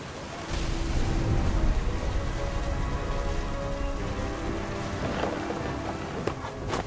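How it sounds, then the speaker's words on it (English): Heavy rain falls steadily and loudly during a storm in the video game What Remains of Edith Finch. It is a continuous dense hiss with no clear thunderclap standing out. "The thunder sounded much too close and full of angry power."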